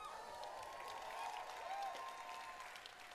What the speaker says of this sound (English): they clapped